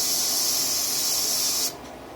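Cleaner is sprayed from a can onto a brush while a Walther PPX pistol is being cleaned. A single close, loud hissing burst lasts under two seconds and then cuts off abruptly.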